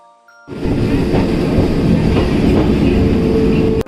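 A train rumbling and rattling past near a station, starting abruptly after a moment of quiet and staying loud and steady with rhythmic wheel clatter to the end.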